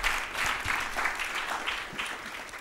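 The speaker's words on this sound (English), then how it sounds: "Keep clapping until she gets on stage, please." An audience applauds as the Mayor of Freetown, Sierra Leone, walks onto the stage at a panel discussion, a continuous wash of many hands clapping with scattered individual claps, fairly loud and steady throughout.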